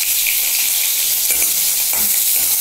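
Soybean chunks coated in gram flour fry in a pan with a steady, close hiss, and a few brief stirring scrapes break through near the end.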